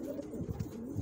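A pair of Shami pigeons cooing close by, soft low rolling coos repeating in quick succession, with no talking.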